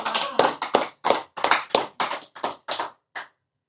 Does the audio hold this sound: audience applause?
yes